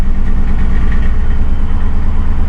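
A 2006 Ford Crown Victoria Police Interceptor sits idling roughly, its engine giving a loud, close, continuous low rumble with a faint uneven jitter and no voices over it.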